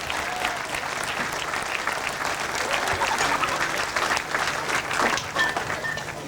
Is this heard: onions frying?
no